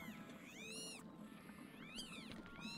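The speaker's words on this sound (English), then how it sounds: "This cat has an obsession with eating everything it shouldn't." A cat meows repeatedly, a few rising and falling calls close by over a steady low background hum, with no talking.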